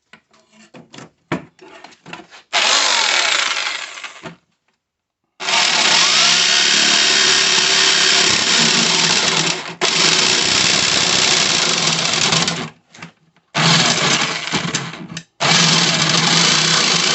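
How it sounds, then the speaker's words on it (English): A jigsaw cuts a shape out of material for homemade steering-wheel-mounted indicator and headlight controls, buzzing in several long, loud bursts broken by short pauses and clicks, with no talk. "I think the best way of cutting this out is going to be with the jigsaw"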